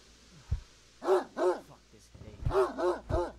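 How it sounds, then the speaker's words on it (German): Dog barking in the Greyhill Incident video game, several sharp close barks in two pairs of bursts with low thuds between, fairly loud and alone. "Was bellst du?"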